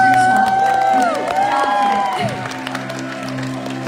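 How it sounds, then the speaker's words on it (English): A live concert crowd in Vineland, New Jersey, claps and cheers with whoops, loud and close at first, then settling into steadier applause as a voice speaks over it. "So give a round of applause for yourself."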